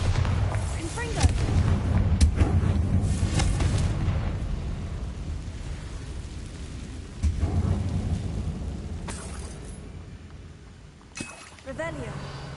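Deep, rumbling blasts from Bombarda and Confringo spells in a Harry Potter video game, with several booming impacts and crackling debris spread across the span.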